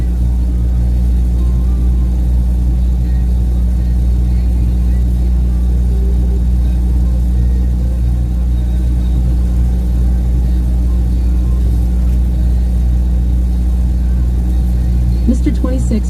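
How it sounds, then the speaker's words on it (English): A semi truck's diesel engine idles and runs, a loud, steady low rumble with a constant hum throughout the cab, unbroken for the whole stretch, with a faint clatter near the end. "That's the engine running."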